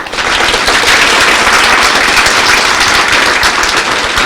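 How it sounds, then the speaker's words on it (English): An audience at a talk event with several speakers gives a dense, loud, sustained round of clapping that fills the whole stretch evenly. "Maybe another round of applause."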